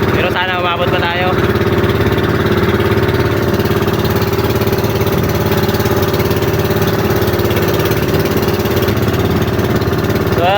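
A repaired boat engine runs steadily throughout, a loud continuous mid-pitched drone with a constant hum and no pauses.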